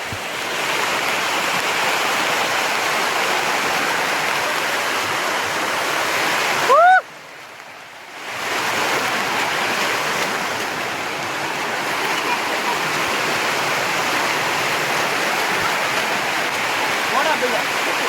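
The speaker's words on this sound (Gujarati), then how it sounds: "તો ભાઈ જુનાગઢમાં ફૂલ વરસાદ છે ગિરનારમાં" Heavy monsoon rain in the Girnar hills at Junagadh, a dense, loud, constant rushing hiss that drops out briefly midway with a short chirp, then resumes just as strong.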